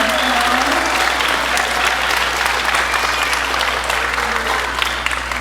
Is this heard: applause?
yes